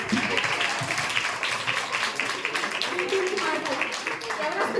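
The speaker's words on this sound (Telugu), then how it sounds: "క్లాప్స్ కొట్టండి." Audience clapping at a youth Christmas party, a dense burst of applause sustained for about five seconds, with people talking over and through it.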